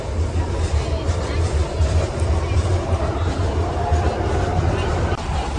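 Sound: Fortaleza metro train running on rails

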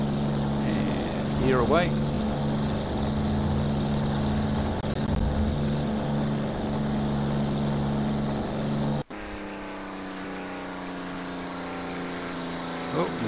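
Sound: Hawker Hurricane propeller engine in the video game X-Plane 11

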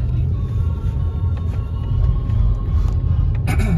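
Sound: Cadillac DTS Northstar V8 engine running

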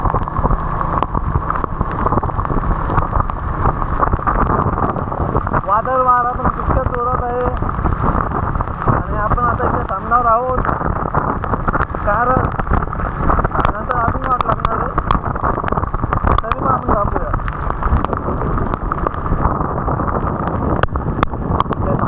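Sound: heavy monsoon rain on the Mumbai–Nashik highway, Bhiwandi

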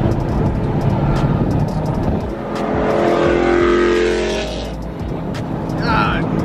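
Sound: loud car engine accelerating past

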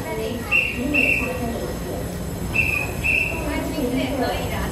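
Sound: EMU3000 train passing

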